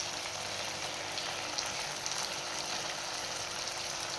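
Ginger garlic paste sizzles in hot oil as it is stirred into a vegetable biryani base, a steady soft hiss of frying that continues evenly throughout with no talking.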